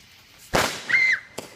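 Backyard fireworks going off nearby: a sharp firecracker-like bang, then a brief rising whistle and another smaller pop, all loud and close with no talk.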